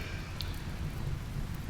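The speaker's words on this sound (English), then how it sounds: "Rain." Rain falling in the RimWorld colony game, a steady soft hiss with low rumbling throughout, continuous and even with no talk.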